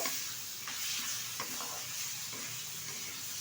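Fried catla fish head is stirred into sizzling masala in a pan, a continuous bright sizzle with a few soft scraping stirs, heard alone without talk.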